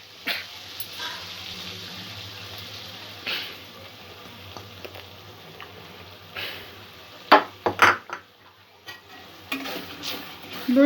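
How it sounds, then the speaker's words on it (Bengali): Yogurt being stirred into a spice masala in a pan for a prawn korma with cauliflower: soft scraping and clinks of a spoon against the pan over a faint sizzle, with a few louder knocks near the end. "দইটা মশলার সঙ্গে মিক্স করে নেব।"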